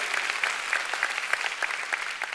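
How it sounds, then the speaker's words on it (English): A church congregation claps together during a worship service, a steady crowd of hands with a few sharper rhythmic claps standing out, moderately close and without talk. "Let's give the Lord a big clap."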